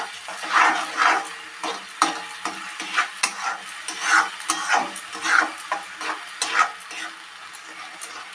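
Masala paste of leaves, tomato and green chili being sautéed in a pan for katla fish curry, a thick, soft sizzle with a regular rhythm of spatula strokes pushing through the paste, close by and with no one speaking.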